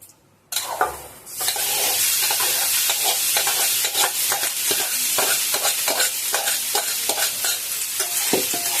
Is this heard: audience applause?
no